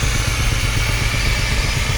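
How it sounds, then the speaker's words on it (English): An Advance steamroller at a tractor festival runs its engine at close range, a loud, steady low rumble with rapid even chuffing and mechanical clatter that continues without a break. "There's an Advanced steamroller here."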